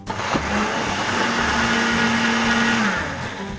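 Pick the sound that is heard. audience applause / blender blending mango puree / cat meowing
blender blending mango puree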